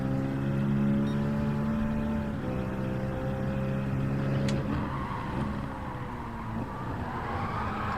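A Citroen car engine driving in the Gran Turismo 7 racing game, a steady droning engine tone that shifts pitch as gears change, then settles into a rougher whir, continuous and close with no talk.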